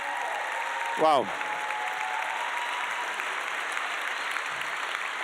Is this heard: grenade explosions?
no